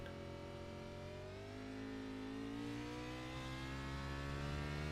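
Race car engine in the iRacing simulator during an Xfinity Series race at Mid-Ohio, driven with steady throttle control; a continuous, moderately loud tone whose pitch rises and falls gently with throttle, with no talk over it.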